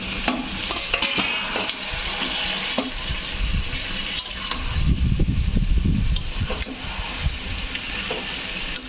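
Vegetables for a Bengali fish-head and greens dish are stirred in a pan, a soft close scraping and rustling with a low sizzle that swells midway, no talking.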